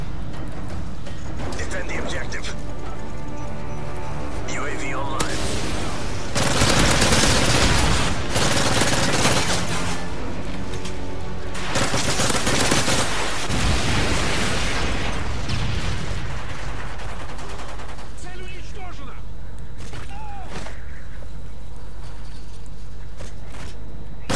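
Gunfire in Call of Duty Modern Warfare 3 Search and Destroy, dense bursts of rapid shots and sharp pops layered over a constant loud game soundscape, with a player's voice talking throughout.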